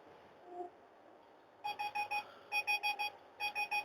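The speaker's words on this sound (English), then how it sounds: "I'm so sick of this thing beeping." Electronic warning beeps in quick bursts of four or five, repeating after short gaps, loud and clear over a faint low rumble.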